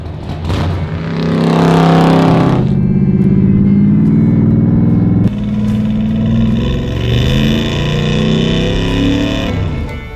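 Engine of a 60-year-old Ford Mustang revving loudly up close, a deep throaty rumble climbing to a sustained high-rev roar, dropping back briefly, then surging again with strong low-end growl, no talk over it.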